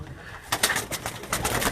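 Pigeons cooing in a rooftop cage, several soft bursts of cooing and wing-like rustle close by, repeating irregularly over a low background hum.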